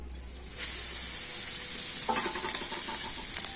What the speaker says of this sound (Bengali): আর এই নারকেলটা এখন আমি কড়াতে দিয়ে দেব